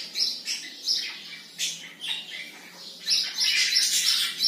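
Budgerigars chirping and squawking in shrill, repeated bursts, close and fairly loud, merging into a busy chatter in the final second.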